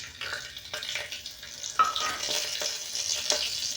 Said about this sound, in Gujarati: હવે આપણે વઘાર માટે તેજપત્તા તજ લીમડો લવિંગ અને એલચી લીધી છે તે એડ કરેલી